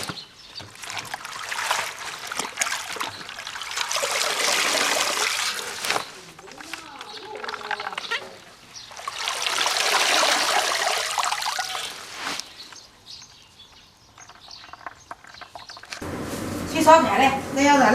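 Washed wild vegetables lifted out of a basin of water to drain, with long swells of splashing and trickling water, then quieter dripping and a clatter near the end.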